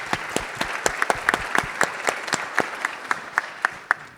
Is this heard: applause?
yes